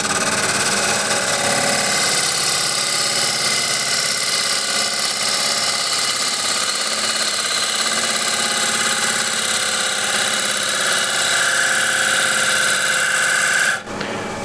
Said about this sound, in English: Sharpened ball gouge, and now I have to find the cut here where it's nice and smooth.